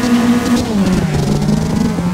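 Mazda RX-7 engine revving hard in the racing game Apex, a loud steady engine drone with rising and shifting pitch throughout, no talking.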